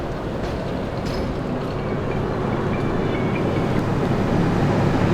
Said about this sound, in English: It's been a while since I've been on a tram.